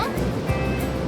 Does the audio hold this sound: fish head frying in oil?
no